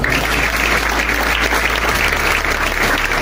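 A church congregation claps together in loud, sustained applause. The clapping is dense and fills the room evenly, with no pause from start to finish.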